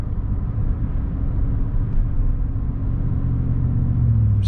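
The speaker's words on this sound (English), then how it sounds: "if I give it a little throttle and then let off again" A V8 engine with cylinder deactivation disabled gets a light blip of throttle and is let off, giving a steady, loud low rumble that swells slightly toward the end, close and alone with no voices.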